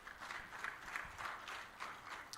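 A round of applause for a speaker at a business event, a moderate crowd clapping in uneven swells that rise and fall at a slight distance, without talk.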